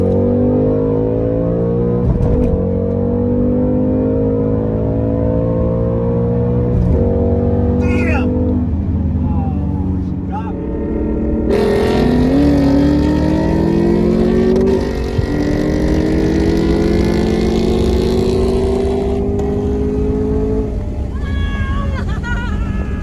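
2021 Mustang Mach 1 in a side-by-side street race from a car-length gap, its loud engine droning close by and climbing in pitch through hard acceleration, with a gear change and a raised, louder stretch partway through.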